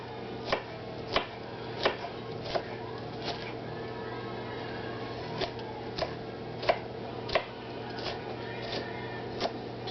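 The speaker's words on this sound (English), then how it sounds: "Just cut them in little dices" Knife dicing bell peppers into small pieces on a cutting board, with crisp chopping taps at a steady rhythm of about one per half-second over a low background hum, close and clear.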